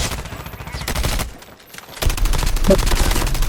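Bursts of automatic rifle fire crackle during a Call of Duty Mobile match, rapid dense volleys that stop briefly and then resume with heavy repeated shots, loud and close, with a voice faintly underneath.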